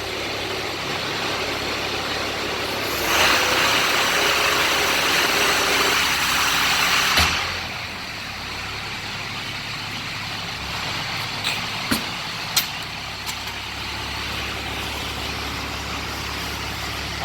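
An air compressor runs on a Caterpillar 3306 diesel power pack, a steady engine-like drone with a loud hissing burst of air for a few seconds midway, then settling back to a low running hum with a few sharp clicks.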